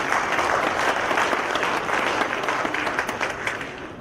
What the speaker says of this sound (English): Thank God you are clapping.